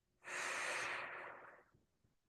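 A single deep inhaled breath, close and fairly loud, drawn in smoothly for over a second before tapering off into quiet.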